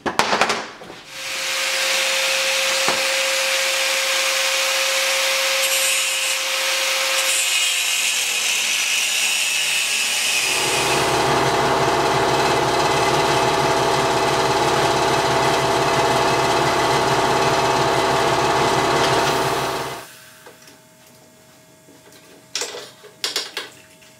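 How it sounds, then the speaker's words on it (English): Power cutting tool grinding off a weld on a motorcycle side stand bracket, a loud steady high-pitched whine that deepens midway and runs about twenty seconds before stopping abruptly. "I'm gonna try to cut off around this weld best I can"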